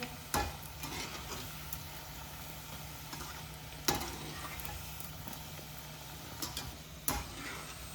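A tadka sizzles softly in a pan, a faint steady frying hiss broken by a few sharp clicks and taps of a utensil, with no voices.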